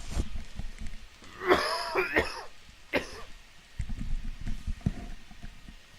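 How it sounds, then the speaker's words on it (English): A commentator coughs into the microphone, a short cluster of two or three harsh coughs near the middle followed by a smaller one, close and fairly loud against quiet background sounds. "Excuse me, I need to cough."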